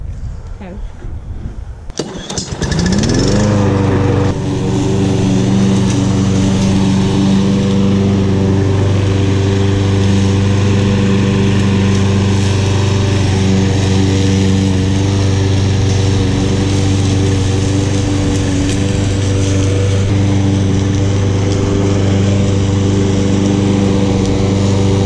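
A Husqvarna 22-inch push lawn mower starts after a few seconds of quiet handling and then runs at a steady, loud, droning hum, with voices underneath.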